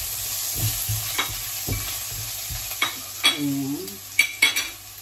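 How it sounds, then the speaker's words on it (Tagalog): Ginger fries in a pan and gets stirred, with a steady close sizzle broken by several loud scraping and clattering strokes of the utensil against the metal, and a brief spoken word near the end. "Lagay po natin itong luya."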